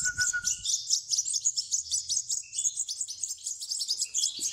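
Goldfinch chicks chirp rapidly and insistently, a continuous high-pitched begging chatter close by, with a brief lower note at the start.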